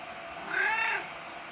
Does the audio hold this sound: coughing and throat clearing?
no